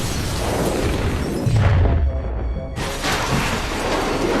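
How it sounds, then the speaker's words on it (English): A bomb explodes and destroys a building, a loud broad booming rumble with heavy low-end energy, a brief drop-out, then a sustained roaring aftermath. "after the explosion, the entire building was damaged"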